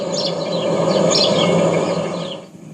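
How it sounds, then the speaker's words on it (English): Several small birds chirp and trill together in a continuous chorus, bright tweets repeating over a soft steady background hum. "Nature's own tweets and twitters, it's the dawn chorus."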